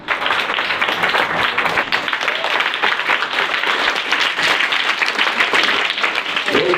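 A school audience applauds at a Hindi Day celebration at Vision Academy, with dense, steady clapping that stays loud and even from start to finish.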